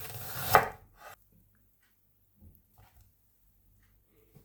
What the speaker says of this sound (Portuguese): 2 cebolas tamanho médias e cortar em fatias de quase 1 centímetro